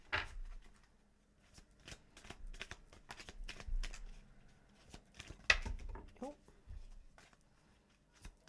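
Romance Angel oracle cards are shuffled by hand, making soft, quiet flicking and riffling taps in short uneven bursts beneath a person talking.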